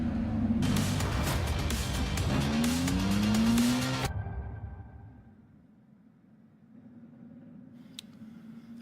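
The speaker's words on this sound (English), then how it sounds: "Brian Waltersdorf going for the all-white livery as the cars are released right now" Ferrari 296 Challenge race cars roll off the grid at Sonoma in a loud burst of engine roar and tire noise, then pull away and fade to a distant drone.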